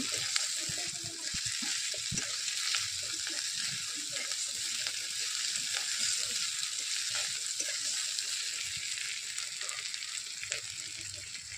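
Food frying in a pan for a Bengali home-style kochu flower and prawn dish, a soft continuous sizzle with intermittent stirring scrapes and taps throughout, fairly quiet and close.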